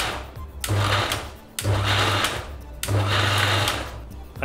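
A kitchen grinder whirs in three loud, close pulses, grinding a tofu tomato butter masala paste with soy milk, with brief pauses between bursts.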